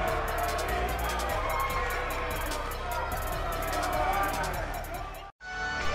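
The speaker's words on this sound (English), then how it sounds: "We've got an animated crowd here tonight" Arena crowd cheering in WWE 2K18, a continuous loud roar of voices and babble with a commentator talking over it, briefly cutting out near the end before resuming.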